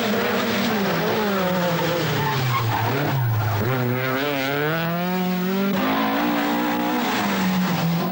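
Rally car on a stage of the 1982 RAC Rally sliding with long tyre squeals, pitch wavering over a loud close engine roar for about eight seconds.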